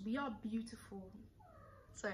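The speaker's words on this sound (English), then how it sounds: "that was my cat" A pet cat meows in short, rising cries mixed in with someone talking at the same time, fairly quiet and close.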